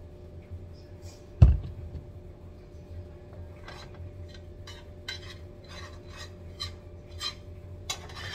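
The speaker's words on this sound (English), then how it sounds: "And rub it around in the pan so it's all covered." Oil is rubbed around a casserole pan in a home kitchen, giving soft rhythmic scraping and rubbing strokes close by after an initial clunk, with no talking.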